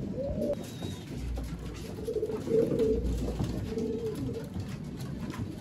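Pigeons cooing nearby in repeated soft, throaty calls over a low background hum, with no talking.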